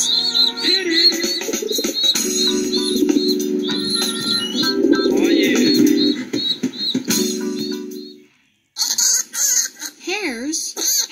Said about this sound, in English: Pigeons have squabs.